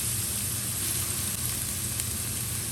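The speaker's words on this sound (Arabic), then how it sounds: "خلينا الآن نحمص البصل لين ما يكون حلو" Onions frying in a pan for a béchamel macaroni dish make a steady, hissing sizzle that holds at an even level throughout, close and continuous with no talk.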